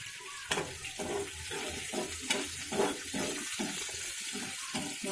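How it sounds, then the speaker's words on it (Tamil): Small onions (shallots) sautéing in a pan, a steady bright sizzle with stirring scrapes and soft clatters of the spatula running throughout. "நல்லா ப்ரௌன் ஆகுது இது வதங்கட்டும்"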